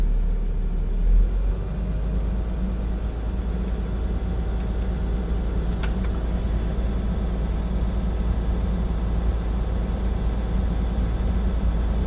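A transit bus diesel engine runs steadily at fast idle, a loud, even, low-pitched drone with a constant throb, unchanging across the whole stretch apart from a couple of brief faint clicks.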